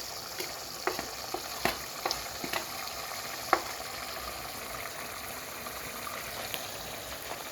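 Stew bubbles and sizzles in a pot with a soft, constant crackle, and light clinks of a utensil stirring it come at irregular moments.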